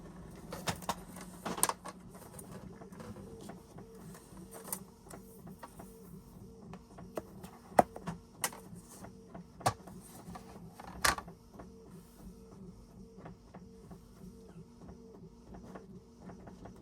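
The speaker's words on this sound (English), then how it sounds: "And my printer is printing." Printer running a sticker sheet: a quiet mechanical hum with sharp clicks and clacks scattered at irregular intervals, close by, with no talk.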